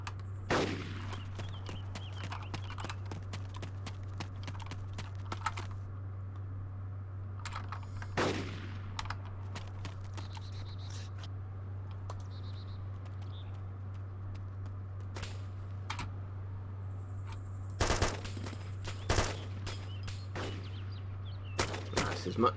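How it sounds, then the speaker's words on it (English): A PKP machine gun with a scope fires in ARMA 2, with sharp shots and short bursts scattered over a steady low drone. Some shots are spaced apart and others cluster together, with a few louder cracks near the end. "A machine gun with a scope."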